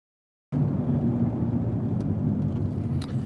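A used car driven down a road on a test drive, with a steady low engine and road rumble starting abruptly and holding constant throughout, close and fairly loud.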